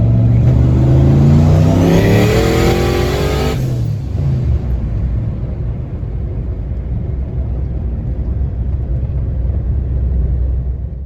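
Turbocharged Ford Foxbody Mustang on 8 psi of boost pulling hard in third gear, a loud engine roar rising in pitch with turbo whine, then a shift into a steady heavy rumble of continued acceleration, heard from inside the car.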